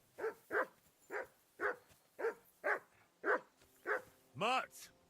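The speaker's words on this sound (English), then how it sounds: "That barking was a pain in the ass." A dog in the medieval game Kingdom Come: Deliverance 2 barks repeatedly at a steady, insistent pace, about nine sharp barks ending in a drawn-out whining yelp, fairly close and clear.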